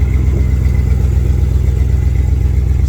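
A 1994 Jeep Grand Cherokee rock crawler with a new timing chain runs close by, its engine holding a steady, loud low rumble with a faint clattery edge and only a slight lift in revs.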